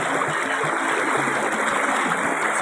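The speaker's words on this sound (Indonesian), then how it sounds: "Ini airnya sangat deras sekali Dulur." Fast-flowing river water at a crossing point on the Mujur river in Lumajang rushes and splashes in a loud, continuous broadband roar close by, with no voices.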